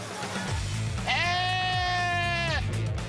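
A goat bleat used as a sound effect: one sustained, wavering bleat lasting about a second and a half, close and clear, over a low background bed.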